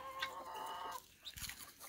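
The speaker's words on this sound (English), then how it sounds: "And put this big chicken down." Chickens and guinea fowl cluck softly around a small farmyard near a tiny house in the woods, several short low clucks set against a quiet outdoor background.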